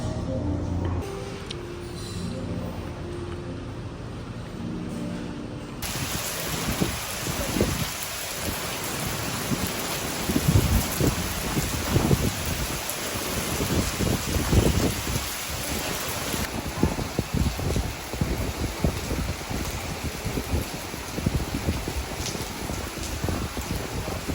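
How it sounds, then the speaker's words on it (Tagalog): Heavy rain pours steadily in Boracay, a dense, loud hiss of drops hitting surfaces close by, with low rumbles of thunder underneath. "Malakas ang ulan ngayon dito"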